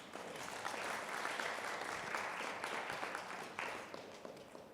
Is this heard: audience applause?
yes